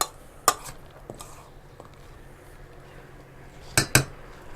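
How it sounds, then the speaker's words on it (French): A lid is set onto a container at an outdoor kitchen, with a few sharp clinks of dishes: a pair of quick knocks near the start, fainter taps in the middle, and two louder clatters close together near the end. "On va mettre son couvercle."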